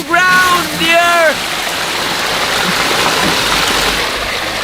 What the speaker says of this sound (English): This is the river flowing from Thar.